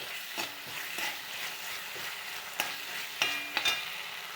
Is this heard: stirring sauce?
yes